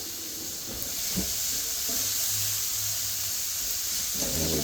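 Finely diced onion and carrot sizzle steadily in a hot pan, a continuous close hiss and crackle with a few soft stirring knocks underneath.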